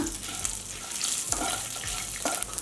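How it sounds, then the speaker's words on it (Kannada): Three dry red chillies, a green chilli, coriander seeds and cumin dry-roast in a pan over a low flame, a soft continuous crackle and scrape with faint stirring, quiet and close. "ಲೋ ಫ್ಲೇಮಲ್ಲೇ ಹುರ್ಕೊಳ್ಳೋಣ"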